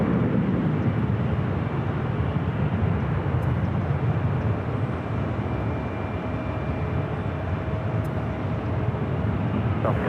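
A jet airliner roars steadily on final approach and landing at runway 24 right at LAX, a continuous loud engine rumble with a faint high whine throughout, no voices.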